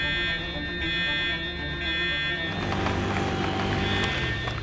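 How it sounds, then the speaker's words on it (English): An electronic alarm tone sounds steadily throughout, a high sustained beeping with some rumbling motion noise underneath. "Is that the park alarm I just heard?"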